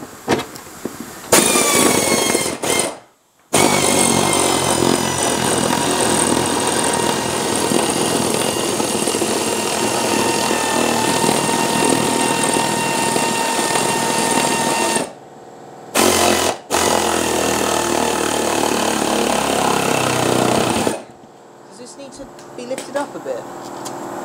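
A power tool whirs continuously while tightening bolts on a Whitby Morrison ice cream van engine during an engine change. The run is long and close, with a few short breaks, and a person talks over it at times.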